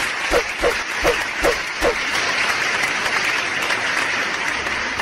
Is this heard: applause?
yes